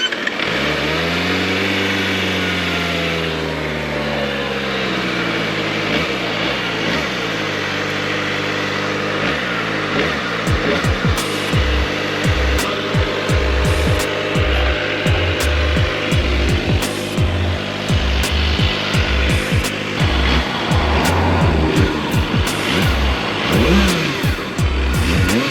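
A Kawasaki ZX25R motorcycle fitted with an aftermarket exhaust revs hard on the road, its high-pitched inline-four wail climbing and dropping through repeated shifts. The engine is loud and close, with wind noise over it and no talking.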